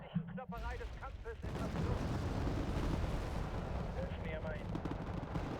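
Mortar fire in the Wargame: Red Dragon video game, a dense rumbling barrage of muffled distant blasts that builds after a short quiet start and rolls on continuously.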